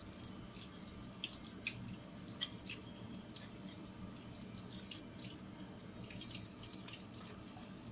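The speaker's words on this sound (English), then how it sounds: "Use water to clean the plate." Running tap water rinses a glass gel plate in a lab sink, a continuous splashing stream broken by small drips and spatters, close and alone without voices.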